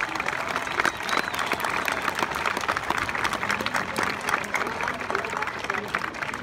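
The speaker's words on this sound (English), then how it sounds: "May we please give these young gentlemen and females a round of applause." A graduation crowd applauds first-generation high school graduates, the dense, continuous clapping of a large room sustained loud and even throughout.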